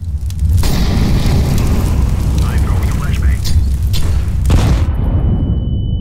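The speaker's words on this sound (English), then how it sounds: "I'm throwing a flashbang." Flashbang grenade blast in a tactical shooter video game, a loud, sustained roaring burst that fills the clip before cutting to a thin high ringing tone at the end.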